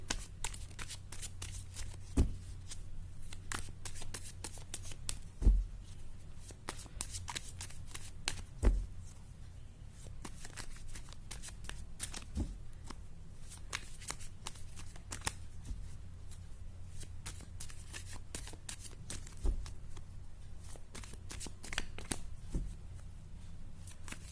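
A deck of tarot cards shuffled continuously at close range, a steady riffling flutter with occasional sharper snaps, with no voice over it.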